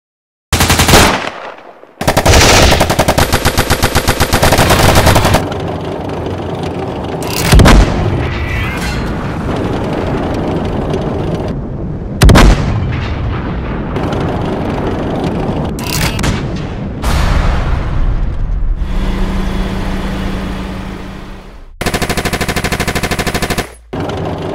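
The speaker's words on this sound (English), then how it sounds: "The Greens are coming. Everyone, open fire!" Staged stop-motion battle filled with loud, sustained machine-gun bursts and heavy artillery booms, one dense volley after another with short pauses between, close and overwhelming throughout.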